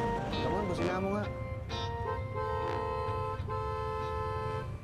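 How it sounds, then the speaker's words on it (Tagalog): A car horn sounds in several short honks, with people talking over and between them. "busina mo nga"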